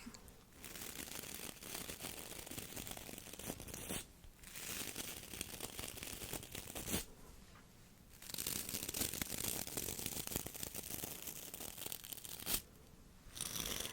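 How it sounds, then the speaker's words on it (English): Steady bristly scratching strokes of a boar bristle brush drawn through hair, close and continuous, with a few brief pauses between passes. "I also have this boar bristle brush"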